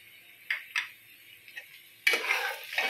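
Chopped tomato tipped into a pan of frying onions for a desi chicken curry, a few soft clatters and scrapes followed by a louder, sustained burst of sizzling at close range, with no talk.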